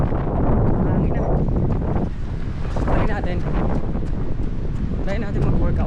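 Steady wind at Manly Beach, Australia, buffets the microphone during a run with a constant low roar, loud and close throughout.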